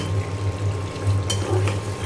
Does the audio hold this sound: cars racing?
no